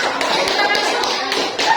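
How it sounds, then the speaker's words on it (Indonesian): Schoolchildren in a classroom give a short round of clapping for a student group. The hand claps are quick and uneven and last under two seconds, with some voices mixed in. "Oke, tepuk tangan untuk temannya."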